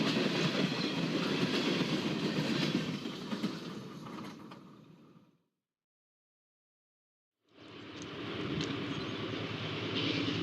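Train rolling along the Burlington main line near Galesburg, a loud, steady rumble of cars and wheels that breaks off into a few seconds of silence before the passing resumes just as strongly.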